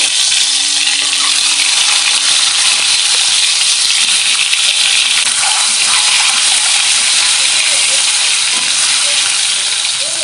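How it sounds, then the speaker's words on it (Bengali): Eggs mixed with turmeric and salt frying in oil, a loud dense continuous sizzle that runs unbroken throughout at close range. "আর লবণ একসাথে মিশিয়ে ভেজে নেব। ডিমগুলোকে দিয়ে ভেজে নেব।"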